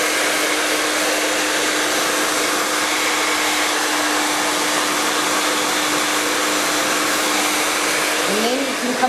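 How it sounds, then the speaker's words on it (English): A hair dryer blows steadily and loudly without a break while short hair is brushed flat against the head, its airflow roar holding a constant tone throughout. "pulling the hair right up into the brush and just drying that really flat against her head"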